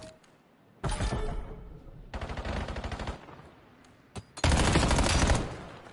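Automatic gunfire in Black Ops 7 on the Survive the Island map, coming in three loud, sustained bursts of rapid shots separated by short lulls, with no voices over it.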